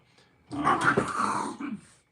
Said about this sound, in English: Those are both my dogs underneath of me.